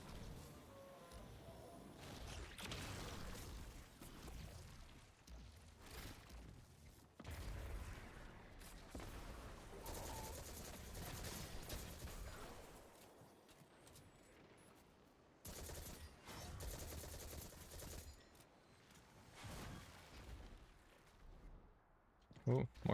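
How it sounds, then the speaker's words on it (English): Enemy fire pours in on the player in the shooter Destiny 2, dense rattling bursts and booming impacts layered with effects and an excited voice talking over the battle, near-constant chaos with brief lulls. "So many things shooting at me."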